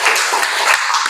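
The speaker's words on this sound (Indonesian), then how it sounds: "Tepuk tangan buat Jaidan." A classroom of students bursts into brief, dense applause, a loud, close flurry of clapping lasting about a second.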